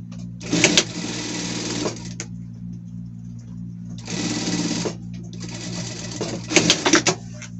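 Domestic sewing machine stitching a seam, heard as three close bursts of rapid mechanical whirring and clatter separated by short pauses, with a faint background hum.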